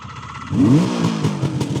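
A 1976 Suzuki GT750A motorcycle engine cranks on its electric starter and fires up at once, settling into a loud, close, smooth idle with a rising rev.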